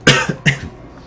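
Two sharp coughs close to the mic, about a third of a second apart and each followed by a short wheezy tail, then quiet room tone.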